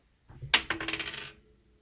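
Dice are rolled: a sharp clatter followed by a quick series of rattling bounces that fade out within about a second, close and with no talk.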